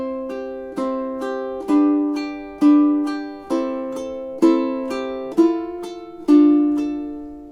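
A ukulele plays the opening two measures of a song, a series of clear plucked chords that ring and decay one after another, close and alone.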